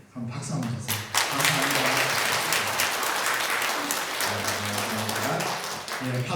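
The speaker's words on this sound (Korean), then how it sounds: "한번 박수 한번 주세요" Congregation applauding during a Sunday church service, a broad steady patter of clapping filling the room, with a low hum and voices murmuring underneath.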